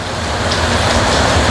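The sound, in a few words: rain falling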